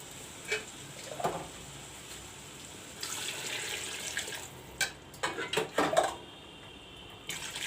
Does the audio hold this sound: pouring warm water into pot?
yes